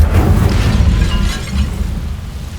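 A fiery Incendio spell burst from the Hogwarts Legacy video game, a loud booming whoosh of flame with heavy low rumble sustained for a couple of seconds, easing slightly near the end.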